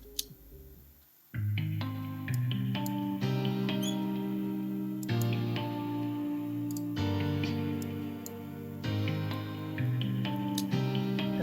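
A progressive house track with lush Valhalla Vintage Verb reverb, layered with guitar from a sample pack: steady, dense chords and a pulsing beat with sparkling plucked notes, loud and continuous after a short quiet start.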